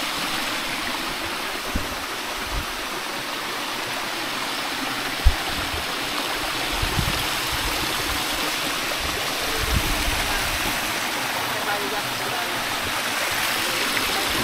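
Water from a stream and waterfall rushes in a steady, broad, unbroken flow. The falls are cold and dirty, and the rush is heard at close range with a few faint knocks.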